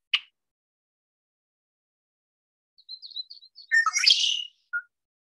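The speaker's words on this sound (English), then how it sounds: "Here's the red-winged blackbird male." A male red-winged blackbird sings outdoors, a single faint chip followed after a pause by a short run of clear notes and a loud buzzy trill, then one last brief call, with quiet surroundings and no talk.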